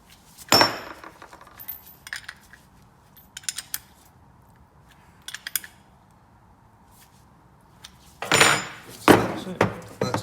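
Metal washers, nylon wheels and nylock nuts are fitted onto a salvaged Ransomes ride-on mower with a 5-cylinder cutter. Sharp metallic clinks and clatters come in scattered bursts, with a longer rattling burst near the end and quiet gaps between.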